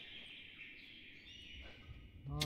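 Faint, thin high-pitched birds chirp steadily in the background of The Last of Us, over a low ambient rumble, with a brief voice cutting in at the end.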